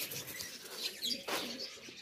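Pigeons coo softly amid a busy chorus of chirps and twittering birds, with faint rustling and flutter nearby.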